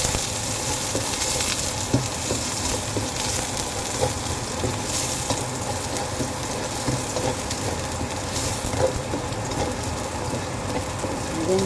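Garlic and onion sauté in a hot pan as the base for chicken curry, a steady, dense sizzle and frying hiss lasting throughout with occasional stirring clicks, no talk over it.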